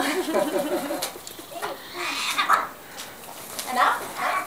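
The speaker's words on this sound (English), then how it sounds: "You're like an artistic bird." Croaking, gurgling calls from a pet raven come in short bursts close by, mixed with a person talking and clicking sounds.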